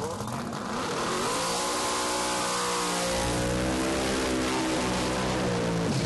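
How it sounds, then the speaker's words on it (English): A 6-second Camaro drag car, owner-built, launches and accelerates hard down the Heartland Park strip in Topeka during Drag Week, a loud rising engine roar that climbs in pitch over several seconds amid crowd and track noise. "Driving the Project 6-second Camaro."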